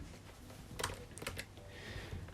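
Typing on a computer keyboard: a quick cluster of key taps, followed by a few more clicks, close by and fairly soft, over a low room hum.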